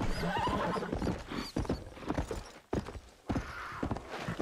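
Rapid hoofbeats of a galloping horse in the video game Red Dead Redemption, rhythmic and close, with a whinny near the start and brief breaks in the pounding.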